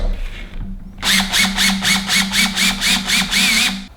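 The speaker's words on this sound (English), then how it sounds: "So I'm going to tighten it up real quick." A small power tool whirs in a rapid pulsing rhythm of about a dozen even bursts while tightening a Bow Spider bow mount, loud and close, after a brief quiet start.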